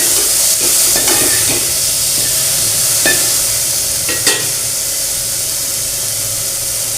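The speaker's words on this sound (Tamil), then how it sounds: "கிண்டி விட்டுங்க." Chopped tomatoes frying in a pan for beetroot soup give off a loud, steady hiss and sizzle, with occasional light scrapes and taps of a stirring spoon, close by.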